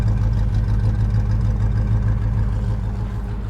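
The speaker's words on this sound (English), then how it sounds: "This is true dual exhaust, which means there's no crossover pipe, no X pipe, none of that." Deep, throaty true dual exhaust rumble, no crossover pipe, from an idling 1977 Chevy C20 pickup truck, loud and steady with a pulsing low burble throughout.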